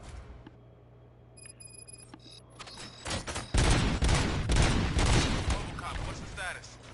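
Bursts of gunfire erupt in the RoboCop video game, a dense, loud fusillade of rapid shots that breaks in after a few quieter seconds of electronic tones, with a voice speaking around the shooting.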